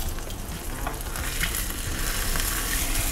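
Chicken fries in a pan over the flame, a loud, dense sizzle with continuous crackling and spitting, close up and with no voices.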